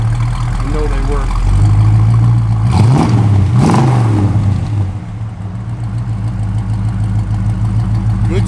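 A 1972 Buick Gran Sport's engine idles with a strong, deep, steady drone, then is blipped twice in quick succession, each rev rising and falling, before dropping back to a smooth idle; loud and close.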